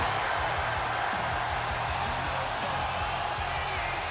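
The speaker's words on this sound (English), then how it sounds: "Crowd's still behind Cody, obviously." Arena crowd in the WWE 2K25 wrestling video game, a steady, dense roar of cheering fans that holds evenly for the whole stretch with a low rumble underneath.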